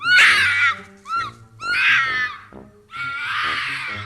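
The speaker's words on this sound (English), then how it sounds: "apparently, that's just the sound a fox makes" A fox screaming in the woods at night, giving several loud, harsh, high wailing shrieks in three long bursts separated by short pauses, close and unaccompanied.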